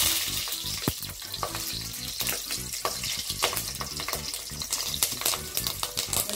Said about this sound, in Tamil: எண்ணெய் காஞ்ச உடனே பட்டை, கிராம்பு, ஏலக்காய் இதெல்லாம் போட்டுக்கலாம்.